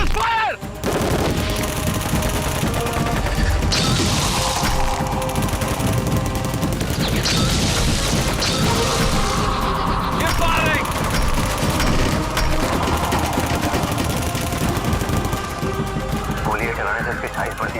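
Cartoon gunfire from commanders firing at a meteoric monster: loud, rapid bursts of machine-gun and rifle shots rattle almost continuously, with voices shouting over the barrage.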